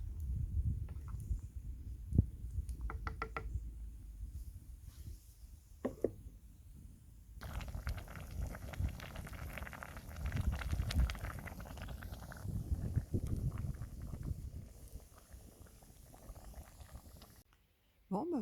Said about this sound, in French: la sauce tomate, elle est en train de mijoter tranquillement